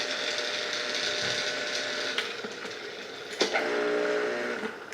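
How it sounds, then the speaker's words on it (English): A Nama Wellness juicer motor runs with an odd, grinding mechanical whir, steady and fairly loud up close, with a couple of brief clicks and knocks along the way. "the motor on the Nama Wellness, as I was just bragging about it, the motor sounds like it's doing something weird"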